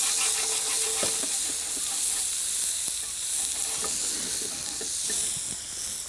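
Red onion softens in olive oil in a pan with a continuous hissing sizzle, with occasional light scrapes and taps from stirring.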